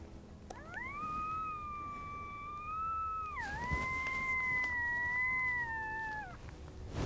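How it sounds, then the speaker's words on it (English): A single long, drawn-out coyote howl rises, holds, dips, then holds again for several seconds before fading, distant and faint over quiet outdoor background in Colorado. "have some coyotes howling back off to our left up on top"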